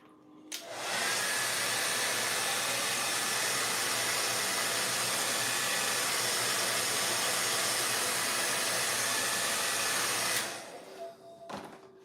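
A hair dryer blows steadily on wet paint for about ten seconds, a loud continuous whooshing hiss that switches off abruptly, followed by faint clicks.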